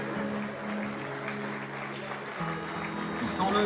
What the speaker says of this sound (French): Sous vos applaudissements, chers amis